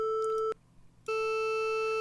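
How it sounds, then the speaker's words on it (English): Waveform generator on a CoCo computer putting out a steady sine-wave tone with ringing harmonics, two sustained beeps separated by a short gap, loud and clean with no other sound. "you can hear the ringing in the sine wave that the harmonics introduce"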